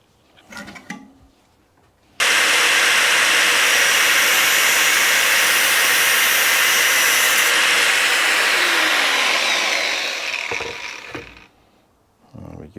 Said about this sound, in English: I would definitely do the outside cable with a grinder